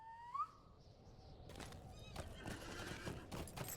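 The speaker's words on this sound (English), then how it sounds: "We're gonna get on a horse for this." Horse in the Lord of the Rings Online video game whinnies near the start, then hooves clip-clop steadily under faint ambient game sound.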